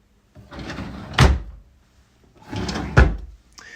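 Desk drawers in a rental property's study room are pulled open and pushed shut, giving two separate wooden slide-and-thud sounds about two seconds apart, each ending in a sharper knock, close by with no talking.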